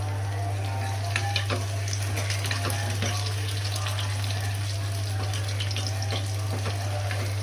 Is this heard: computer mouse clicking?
no